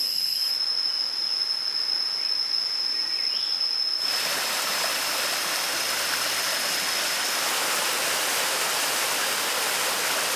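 Running stream beside a waterfall hiking trail gives a steady, loud broadband rush. A high insect-like whine is heard at first, and the water noise swells abruptly partway through, then holds constant with no voices.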